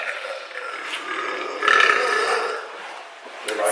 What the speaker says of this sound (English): I hope you liked our burps.